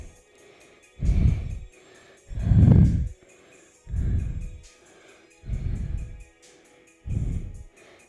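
Slow, deep breathing during a yoga stretch, five loud breaths at an even pace a little over a second each, separated by quiet gaps, close to the microphone with no talking.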